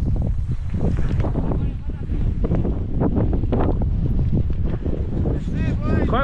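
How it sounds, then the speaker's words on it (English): Strong mountain wind in Andorra buffets the microphone in loud, continuous gusts, with a few faint voices and whistling sounds mixed in. "Quite windy."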